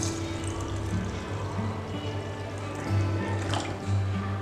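Basmati rice being washed in water gives a soft, continuous sloshing and pouring sound over a steady low hum, with a brief splashy swell near the end.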